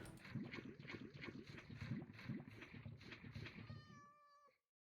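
Cats meowing in Minecraft, a string of repeated game meows and mews in quick succession over busy background game noise, fairly close and steady, ending abruptly.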